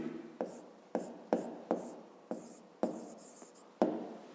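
Pen strokes on paper as multi-digit numbers are written out by hand for a fifth-grade arithmetic exercise, a series of about ten short, close scratching taps in an uneven rhythm, quiet and without talk.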